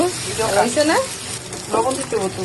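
Oil sizzles steadily in a pan while restaurant-style chicken fried rice is cooked, running softly beneath a voice that talks through most of the moment.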